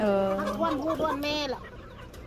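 A wild junglefowl-type chicken gives a loud, drawn-out clucking call up close, with a person speaking over it.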